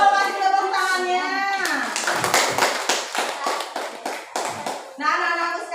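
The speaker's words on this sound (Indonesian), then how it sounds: "Kalau betul kasih tepuk tangannya." In an Indonesian primary classroom, children clap together in a quick rhythmic burst of sharp hand slaps, bracketed by a teacher's voice before and after.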